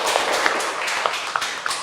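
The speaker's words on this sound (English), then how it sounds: "Okay, applause." Applause in a classroom, a short burst of scattered, uneven clapping from a small group of students, close and fairly loud, with a few sharper individual claps standing out.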